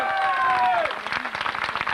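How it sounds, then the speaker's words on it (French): An outdoor crowd at the 1993 FSGT French cyclo-cross championship in Lacenas bursts into clapping for champion Arthur De Faria; a voice speaks over the start, then dense, steady applause continues. "Et une ovation du public, Arthur De Faria."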